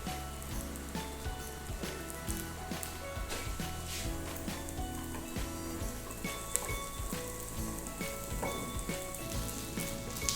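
Breaded tofu cutlets sizzle and crackle steadily in a frying pan, a soft, dense patter of spitting oil heard close with faint music underneath.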